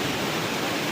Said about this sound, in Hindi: इधर का झरना तो आप लोग देख ही सकते हो